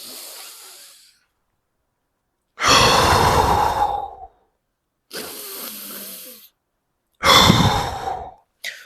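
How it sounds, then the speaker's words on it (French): Deep, forceful belly breaths taken in a low back-squat position while bracing, with four long, loud inhales and exhales separated by silent pauses, close to the microphone. "l'important ici, c'est vraiment ma respiration ventrale"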